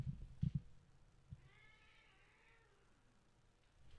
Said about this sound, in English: I don't know if y'all can hear him meowing.